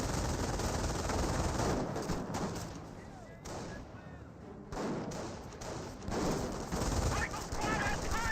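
Rattling small-arms fire in Company of Heroes, with dense volleys of bullets and bursts that dip briefly before returning at full battle intensity.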